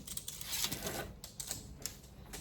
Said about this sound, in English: quite a loud keyboard